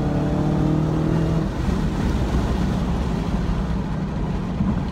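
Dodge Charger Hellcat V8 driving hard on a fall rally stage, a loud continuous engine roar that shifts pitch as it pulls, close and steady with no talk.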